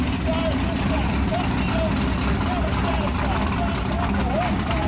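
An Outlaw Pro Stock off-road race vehicle named Never Satisfied rumbles loud and steady, idling as it creeps toward the start line at an off-road facility in St. Joe, Texas, with a constant low drone filling the scene.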